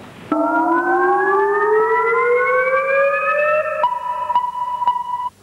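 A synthetic rising tone from a pulsar sound effect in a video game sweeps slowly upward for a few seconds, then shifts to a steady pulsing electronic hum with clicking ticks before cutting off.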